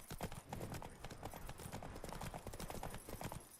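Rhythmic horse hooves clip-clopping steadily throughout in The Witcher 3, a close, continuous trot with no talk over it.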